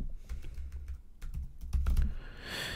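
Quick clattering keystrokes on a computer keyboard, a short close-up burst of typing with irregular taps and a denser flurry near the end, no speech.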